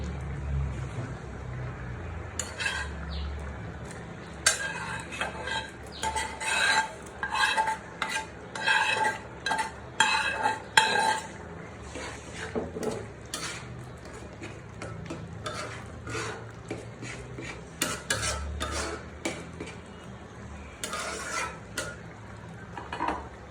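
Fried eggs being stirred into cooked dal in a pot for an egg dal tarka, with clattering spoon-on-metal scrapes and knocks in busy bursts over a low background rumble, close and without talk.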